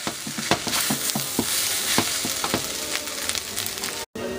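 Soy sauce splashes into a hot stir-fry pan, giving a continuous close, loud sizzle with quick irregular stirring clatters, cut by a brief dropout near the end.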